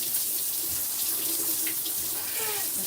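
Hot water runs steadily from a tap, a constant hiss and splash with no break, moderately close in a quiet room.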